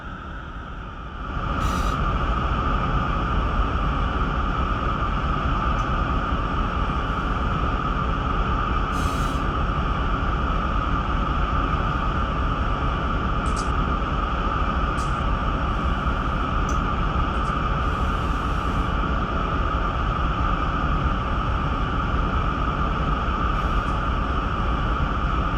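A Union Pacific freight train rolling downhill on a 2% grade through Cajon Pass, heard from the cab as a loud, steady rumble and drone with a few brief high squeals and clanks.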